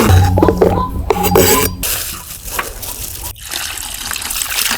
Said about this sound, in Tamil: நல்லா அலசி எடுத்துக்குவோம்.